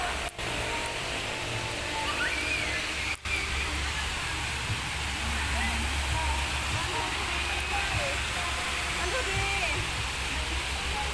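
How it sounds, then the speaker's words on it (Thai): Steady rushing water from a waterfall at a cafe, with a continuous broadband wash over a low hum that holds evenly throughout. "บรรยากาศน้ำตกสวยด้วย มีน้ำตกด้วย"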